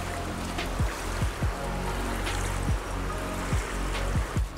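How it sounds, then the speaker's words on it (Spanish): Waves lap on the stony, wild shore of the Reuss river in Switzerland, small swells washing in at a rhythm of about one per second over a constant rushing water noise. "si no fuera por las piedras parecería que estamos en una playa del mar, hay hasta oleaje"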